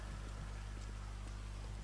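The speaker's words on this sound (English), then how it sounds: "I forgot it was raining." Steady rain in the video game GTA 5 hisses as an even, unbroken wash of noise with a faint low rumble beneath, continuous throughout with no talking.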